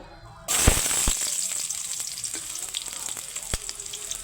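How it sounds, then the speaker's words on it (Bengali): Onions drop into hot oil in a wok with a sudden loud hiss, then settle into a continuous close sizzle with occasional sharp crackles. "তেল গরম হয়ে গেছে এখন পেঁয়াজ দেবো"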